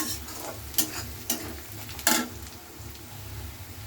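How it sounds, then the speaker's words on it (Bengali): A spoon stirs onion and garlic frying in a pan, with a soft steady sizzle and a few scraping strokes against the metal, close and moderately quiet. "পেঁয়াজ রসুনটা ভালো করে নেড়ে নিচ্ছি।"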